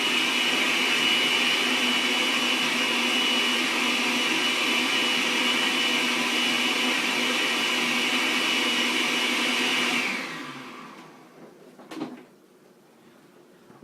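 Electric blender mixing fruit juice, a loud steady whirring drone that runs continuously for about ten seconds before cutting off and winding down, followed by a brief clunk and quiet room tone.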